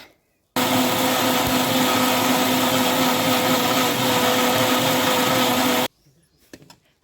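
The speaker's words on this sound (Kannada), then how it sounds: "ಅದನ್ನು ಚೆನ್ನಾಗಿ ಮಿಕ್ಸಿ ಮಾಡ್ಕೊಳ್ತಾ ಇದ್ದೇನೆ" A mixer grinder blends coconut, spices, tamarind, garlic and onion with a loud, steady motor whine that starts abruptly and stops after about five seconds, followed by a few faint clicks and knocks.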